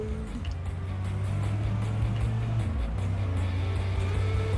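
A car driven in The Simpsons Hit and Run, its steady low engine drone continuous throughout, shifting pitch briefly partway through, with no talking over it.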